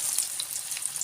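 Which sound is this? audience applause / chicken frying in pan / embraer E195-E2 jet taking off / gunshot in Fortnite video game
chicken frying in pan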